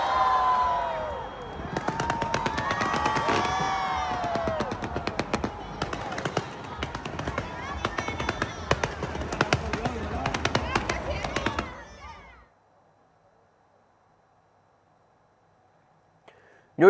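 New Year fireworks above the Eiffel Tower in Paris: dense crackling bursts and pops over a loud cheering crowd for about twelve seconds, then near silence with a sudden loud hit at the very end.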